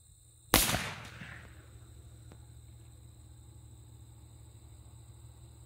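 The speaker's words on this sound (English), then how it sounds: "We're ready to fire." A single loud gunshot from a Traditions .50 caliber bolt-action rifle, fired while hunting prep for whitetail, cracks sharply and rings out briefly before fading into a steady low background hum.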